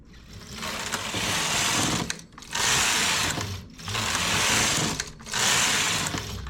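A knitting machine works a neck scarf, its carriage sweeping across the needle bed in four long, loud whirring passes, each split by a brief near-silent gap as it changes direction.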